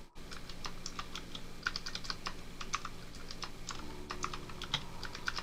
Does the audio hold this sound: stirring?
no